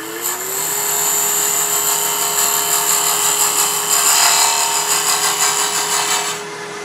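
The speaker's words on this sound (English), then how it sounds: "I'm going to come across the bottom with a round nose scraper." Wood turning on a lathe as a round nose scraper cuts across the bottom of a wooden coffee scoop: a steady high whine with a brief rising start, a loud continuous cutting hiss, and no voices.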